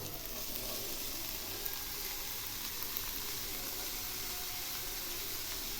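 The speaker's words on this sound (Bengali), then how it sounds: "এবার আমি দিচ্ছি এর মধ্যে শাপলাগুলো" Water lily stems and potatoes fry in a pan with a steady, even sizzle that stays constant throughout, with no voice over it.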